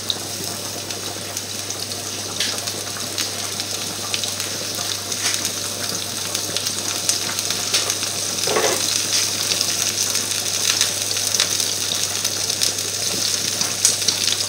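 Onion rings fry in a pan for boudin with apples, giving a soft, steady sizzle at moderate distance, with a constant low hum underneath and no talk.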